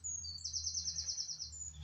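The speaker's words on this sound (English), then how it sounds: "And I'm listening to the birds." A bird in the woods gives a faint, high, rapid trilling chirp that lasts about a second, over a low, soft outdoor rumble.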